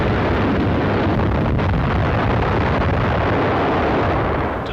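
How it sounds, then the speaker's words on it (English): Bombs and rockets go off aboard the aircraft carrier Franklin after a kamikaze attack, heard as a loud, continuous roaring rumble of fire and explosions with no clear pauses or separate blasts. "Tons of bombs and rockets burst into weird fireworks, and the ship is rocked by internal explosions."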